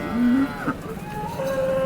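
A cow moos briefly, then another low moo follows amid background chatter and noise of a busy crowd at the outdoor cattle market in Modnimb.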